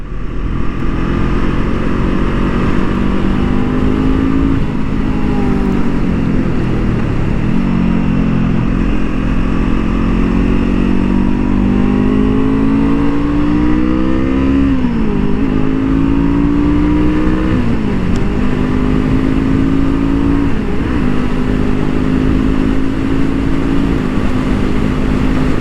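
A 2023 Honda CL 500 motorcycle ridden hard around a racing track, its engine droning loud and close throughout, pitch climbing through repeated gear shifts with wind roar beneath.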